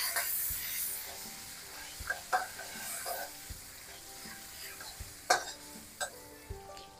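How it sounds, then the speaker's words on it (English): Chicken marinated in fish sauce stir-fries in a pan for Indonesian fried rice, a quiet steady sizzle broken by scattered clinks and scrapes of stirring. "I now have to stir fry this until it's cooked through"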